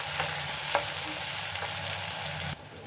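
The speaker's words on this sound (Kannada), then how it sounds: "ಟೊಮೊಟೊ ಸ್ವಲ್ಪ ಸಾಫ್ಟ್ ಆಗೋವರೆಗೂ ಫ್ರೈ ಮಾಡ್ಕೊಳ್ಳಿ." Onion and tomato frying in a pan for a cabbage, potato and pea curry, with a steady close sizzle and a few clinks of stirring, no voices, until the sizzle drops off abruptly near the end.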